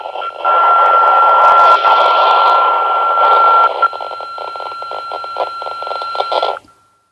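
A loud electronic alarm rings from a SCOM FC-10 Pro handheld radio, a steady buzzing tone that shifts into rapid pulsing beeps before cutting off abruptly.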